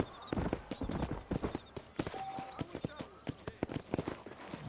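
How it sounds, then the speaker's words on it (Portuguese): A horse gallops in the video game Red Dead Redemption, its hooves pounding in a fast, dense rhythm of close thuds while voices talk over it. "como que eu corro com o cavalo?"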